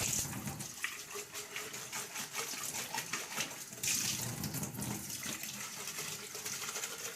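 Tap water runs steadily while plastic containers from an RO/DI filter change are rinsed, with faint splashing and knocks close by.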